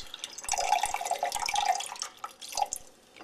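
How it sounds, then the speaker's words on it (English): Ice water is poured off ice in a lab, a light trickling splash running for a couple of seconds with a small gurgle near the end, close and fairly quiet. "I'm going to take the ice water and I'm going to pour the water off of the ice so we don't have any ice"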